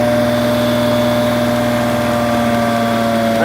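An Infinity B1000 vacuum trailer's engine idling on a potholing utility job, a loud, steady, even drone with a constant mechanical hum and no one talking.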